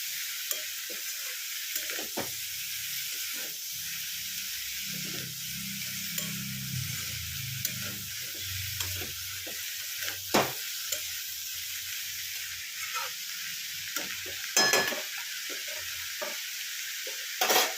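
Potato and snake gourd curry sizzles and fries steadily in a pan while a spatula stirs and scrapes through it in repeated strokes, close and continuous, with a few sharper clinks near the end and no talking.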